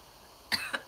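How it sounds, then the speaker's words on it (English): Two quick, close coughs with a short gap between them, rising out of near silence during a casual livestream chat. "Apologies for obnoxious coughing."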